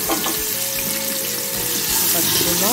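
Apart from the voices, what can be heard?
onions frying in oil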